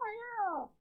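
A cat gives a single drawn-out meow that slides downward in pitch, close and clear, ending with a brief faint chirp.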